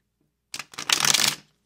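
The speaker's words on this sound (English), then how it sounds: "Aquarian Tarot, and it shuffles like amazing." A deck of Aquarian Tarot cards from US Games riffle-shuffled once, a short, crisp burst of fluttering card edges close by, just under a second long.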